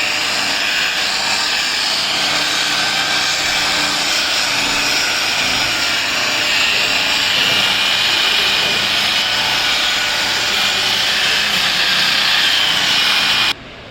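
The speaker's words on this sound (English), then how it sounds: "Right now we are doing a headlight buffing on this Fiat Punto at the moment." Buffing machine polishing a headlight on a Fiat Punto, a loud, constant high-pitched whine with a rough grinding edge running unbroken for several seconds before cutting off abruptly near the end, with no talk.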